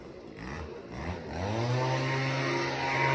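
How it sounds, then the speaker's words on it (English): A leaf blower runs steadily close by during yard work, its motor droning and rising slightly in pitch as it settles into a continuous, moderately loud whine. "Now he's just going ahead and using the leaf blower."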